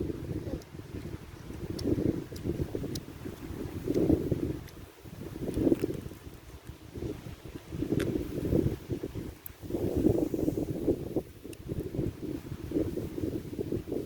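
Wind blows across an open rice field, steady buffeting gusts rising and falling close on the microphone, with faint voices in places.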